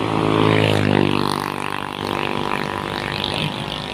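Small excavator with an Isuzu 97-horsepower common-rail, water-cooled diesel engine clearing forest, a steady loud engine drone with rising and falling revs close by.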